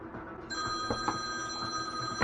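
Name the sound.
phone ringing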